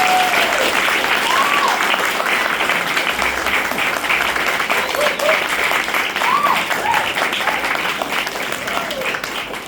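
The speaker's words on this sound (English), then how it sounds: "Can we please give them a huge round of applause?" Steady, dense audience applause at a festival in Mysuru holds at an even level throughout, with faint whistles or voices rising over the clapping.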